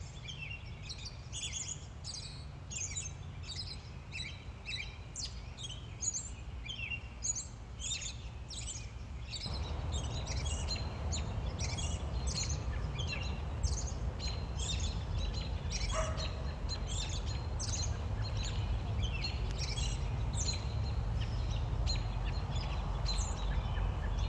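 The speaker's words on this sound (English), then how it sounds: "robins have a very cheerful kind of song, cheery, cheerily, cheery up" An American robin sings its traditional song, a steady run of bright, repeated chirping phrases carried on for the whole stretch against a low outdoor background rumble.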